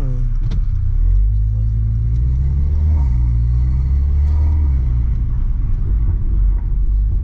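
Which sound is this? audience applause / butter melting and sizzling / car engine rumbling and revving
car engine rumbling and revving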